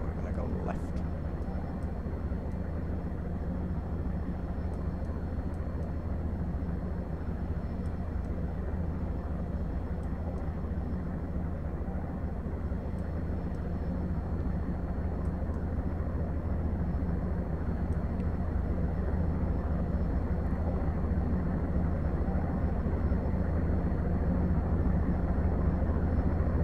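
Airbus A320neo engines in the X-Plane 10 flight simulator give a steady, loud, droning cockpit roar with a low hum, running throughout while someone talks over it.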